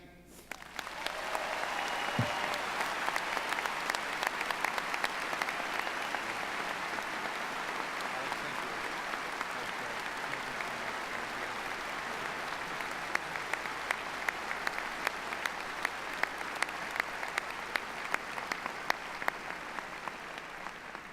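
Audience at a 2019 undergraduate commencement ceremony applauding, a steady dense wash of clapping from a large crowd that carries on evenly throughout without pause.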